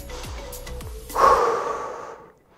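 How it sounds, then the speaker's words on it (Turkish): A deep, audible breath close by during a 30-second rest in an exercise workout: a sharp intake swelling into a long, breathy exhale that fades out, preceded by a few soft thumps. "Derin nefes al ver."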